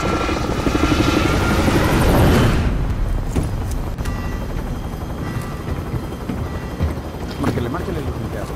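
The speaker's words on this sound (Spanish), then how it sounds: "5 bajas con el helicóptero." Helicopter rotor thumping loudly in a Call of Duty: Modern Warfare match, a dense roaring drone that is strongest over the first few seconds, then drops to a steady lower rumble with a few scattered clicks and bursts.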